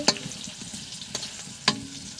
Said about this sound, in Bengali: মাংস রান্না করার জন্য আমি আলু ভেজে নিচ্ছি।